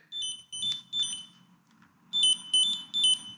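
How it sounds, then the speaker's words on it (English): An Ekster wallet tracker card beeps in two bursts, three high tones, a short pause, then three more, with faint low background noise. "you press this and then it beeps"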